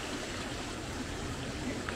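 Water from a stream at a Rawang campsite flows steadily with a soft continuous rushing and light trickling, close and even, with no voices.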